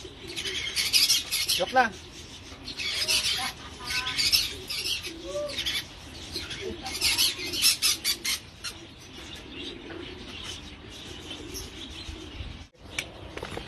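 Racing pigeons coming home to the loft after a 700-kilometre race, with scattered coos, chirps and wing flutters over an outdoor background while people talk excitedly nearby.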